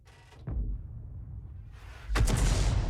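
The leFH18B2 howitzer fires in a tank video game with a deep, booming report, after a softer thump and a low rumble that lead into the loud blast near the end.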